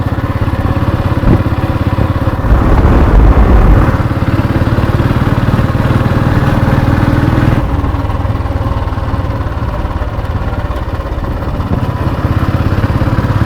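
The deep, steady thump of a single-cylinder Royal Enfield Bullet motorcycle engine idling and revving close by, loud and continuous throughout.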